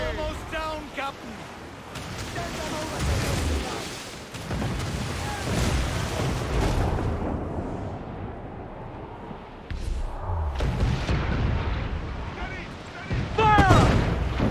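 Ship cannons boom in Assassin's Creed 4 Black Flag, heavy artillery blasts and rumbling explosions over a continuous battle roar, with crew voices shouting in between.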